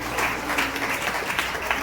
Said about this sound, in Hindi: ताली बजा के तारीफ करें।